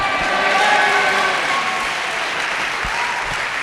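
Church congregation applauding and cheering for Jesus during a sermon, steady loud clapping with some crowd voices, sustained throughout.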